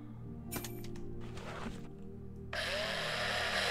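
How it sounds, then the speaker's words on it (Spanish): A drill extracting a paint tank in the space survival game Breathedge, a steady mechanical whir with rattling bursts that jumps to a louder, harsher grinding hiss partway through, over a constant low hum. "Esto se coge con el taladro"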